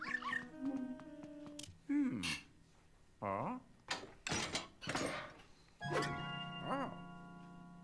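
A dog in the Luigi's Mansion 3 video game whimpers, yips and barks in several short bursts, fairly close, with a person talking between the sounds.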